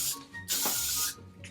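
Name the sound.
hairspray being sprayed at the roots of a wig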